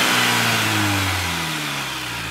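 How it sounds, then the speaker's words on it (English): Car engine revving with a faint turbocharger character, a loud, close, steady drone that slowly drops in pitch as the revs ease off, with no voices over it. "Sounds like a little turbo, actually."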